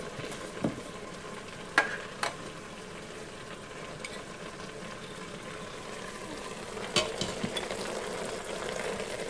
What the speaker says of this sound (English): to kind of stir it around in there. I don't want to come off the spoon.